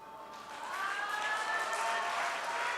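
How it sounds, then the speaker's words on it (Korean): Congregation in a church clapping steadily during a Sunday afternoon service, moderately faint and continuous, with a tonal whine or sung note running over it. "더 우리와 같이 박수 해주세요."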